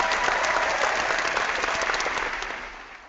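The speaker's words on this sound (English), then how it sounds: "And there's clapping." A canned applause sound effect from a Google Hangout plays: a burst of crowd clapping, loud and dense at first, then tapering and fading out over a few seconds, with no talking over it.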